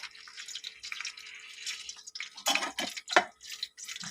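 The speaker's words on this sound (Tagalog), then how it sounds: "prito muna natin yung ating saging na isasahog" Small cut banana slices sizzle and spatter in hot oil in a pan for Filipino pork humba, a soft steady crackle broken by a few sharper pops near the end, with no talking.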